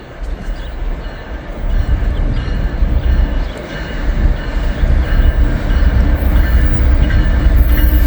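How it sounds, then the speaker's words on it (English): A CSX freight train rolls past close by with a loud, continuous rumble and rail noise that builds slowly. Wheel clatter and faint squeals ride over the heavy low roar, and nobody speaks. "we got a train coming through here"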